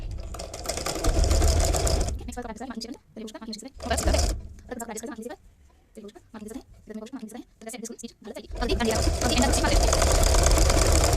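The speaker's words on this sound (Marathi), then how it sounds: "परत पुढचा कपडा असा ॲडजस्ट करून घ्यायचा मार्किंग दिसेपर्यंत व परत स्टिच मारत जायची" Sewing machine stitching fabric for a rabbit-shaped hat runs loud and fast at the start and end, while a voice speaks in the quieter middle between short bursts of stitching.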